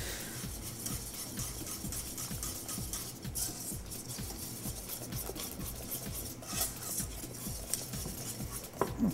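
A whisk scrapes and beats a flour mixture in a bowl, a steady rapid rasping rhythm close by with no talking.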